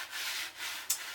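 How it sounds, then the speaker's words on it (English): Sandpaper rubs steadily over cured epoxy on a wooden tank bottom, a continuous close scratchy hiss in two long strokes with a brief sharper scrape at the end. "we're going to sand it down, both to get that wax off and also to get"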